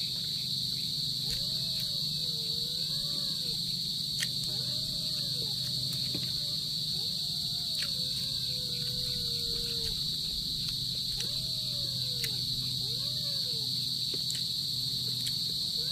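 Constant high-pitched cricket trilling fills the night background in the Philippine countryside, steady and shrill, with a low hum and occasional soft rising calls layered underneath.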